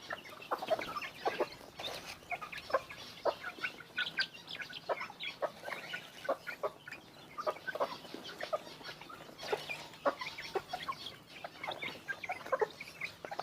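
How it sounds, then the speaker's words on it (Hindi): A rooster and a hen cluck in short, repeated bursts at a moderate distance, fairly soft, with no one talking. "ये देखें, ये मुर्गा था और ये मुर्गी है।"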